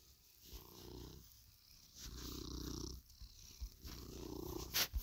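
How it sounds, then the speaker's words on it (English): A pet cat purrs close by, a soft, rhythmic rumble of repeated breaths that swells and fades, faint and alone with a few small rustles. "Okay, my cat's here."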